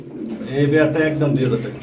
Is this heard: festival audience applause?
no